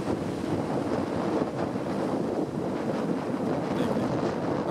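Sea waves wash in on a winter beach as the tide rises, a continuous rushing surf mixed with heavy wind buffeting against the microphone.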